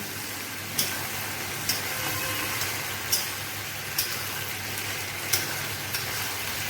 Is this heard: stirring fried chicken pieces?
yes